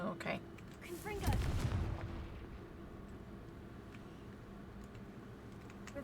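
A fire-blast spell in the Hogwarts Legacy video game, a single booming explosive burst with a crackling rumble that fades into quiet background ambience.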